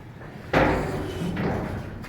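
A door in a goat shed slams shut once with a loud, close thud, followed by a brief rattle and low room noise.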